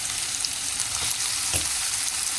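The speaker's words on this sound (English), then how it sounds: "Then I'm going to fry this up for like 2 or 3 minutes." Finely cut bell pepper fries in a pan with a soft, even sizzle and a couple of faint stirring taps, close and alone.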